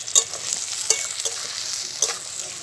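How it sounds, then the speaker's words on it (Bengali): Chopped onion and slit green chillies fry in hot oil in a pan, a soft continuous sizzle broken by a few sharp spatula clicks against the metal. "মধ্যে দিয়ে দিলাম বেশ কয়েকটা চেরা কাঁচা লঙ্কা, আর দিলাম পেঁয়াজ কুচি।"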